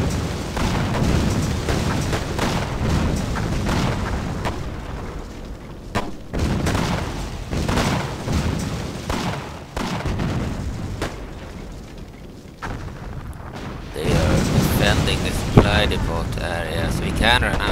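Mortar blasts boom amid constant battle noise in War Leaders: Clash of Nations during Operation Barbarossa, with heavy overlapping explosions and a sudden harsh burst near the end; a voice talks over much of it.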